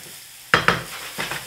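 Diced onions stirred in a frying pan to sweat until glassy: a faint sizzle, then a few scraping stirs and a louder sizzle close by.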